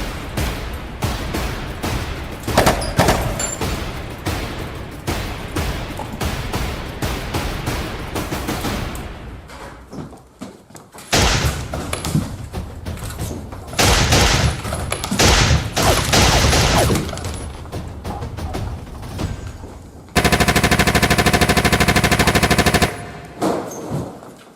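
Rapid automatic gunfire rattles through a teen film shootout in loud, dense bursts, with a brief lull midway and then one sustained, continuous volley near the end.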